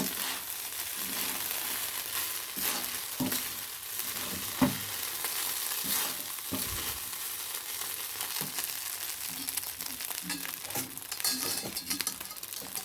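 Rice hisses and crackles in a pan with dried chillies, bay leaf, cinnamon, cloves and cardamom, a soft steady sizzle broken by occasional spatula scrapes and light clinks, fairly quiet and without talk.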